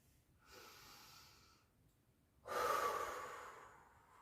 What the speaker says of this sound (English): Remember to breathe through the nose and then breathing out through the mouth.